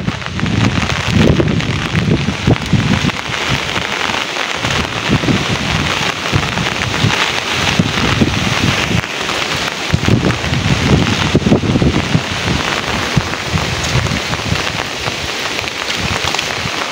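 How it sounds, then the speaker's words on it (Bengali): A strong storm in rural Rajbari, Bangladesh, brings loud, unbroken rain drumming close by, with gusting wind surging through it and occasional low rumbles, and no voices. "আর প্রচুর আকারে ঝড়।"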